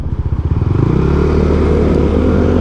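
A Yamaha NMAX V1 scooter with a 63 mm bore and an aftermarket ECU idles loudly up close, starting with a few distinct chugging pulses and then settling into a steady, vibrating engine drone.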